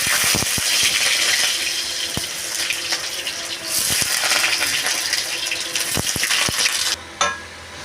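Potatoes frying in hot oil in a wok, a loud, dense hiss with scattered sharp scraping clicks from stirring, briefly easing before the sizzle cuts down near the end.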